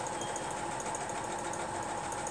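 A Diamond 6 sewing machine runs steadily for a few seconds, stitching with a continuous fast mechanical whir and rapid needle clatter, close and alone, no voices.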